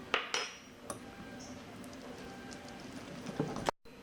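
Cheesecake cream for an Oreo cheesecake, with vanilla and 30 g of icing sugar, being mixed in a bowl: a few sharp utensil clinks against the bowl's side over a soft, steady stirring scrape, close by, with no talking.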